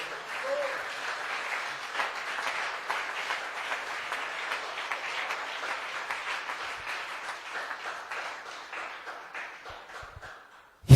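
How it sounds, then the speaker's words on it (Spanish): Sustained applause from a church congregation during an evening worship service, dense and steady for the full stretch before breaking off abruptly at the end. "¿Por qué no le da un aplauso al Señor en esta noche?"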